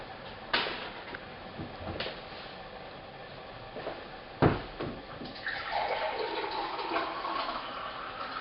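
Warm, nearly boiling water pours and splashes steadily into a container of focaccia ingredients in the second half, after a few knocks and clunks; moderately close, no talking.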